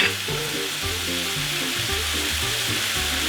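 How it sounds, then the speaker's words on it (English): Half a cup of rice sizzles steadily in a hot pan for pork-fried rice as more sauce goes in, a continuous loud frying hiss with low rumbling bubbles throughout and no talking. "And now I'm going to give it a little bit more sauce,"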